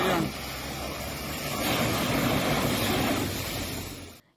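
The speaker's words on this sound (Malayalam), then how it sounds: "ആ പൈപ്പ് പൊട്ടി വെള്ളം ചീറ്റിക്കൊണ്ടാണ്," Water jets from a burst drinking-water pipe on a national highway road, a constant broad roaring hiss that swells slightly midway and then cuts off, with no talk.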